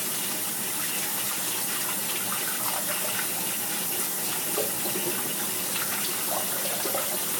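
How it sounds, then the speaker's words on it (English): Hands being washed under a running kitchen tap while making pasta: a steady, loud gush of water with splashing and rubbing throughout, and no talking. "wash your fucking hands, you filthy animal"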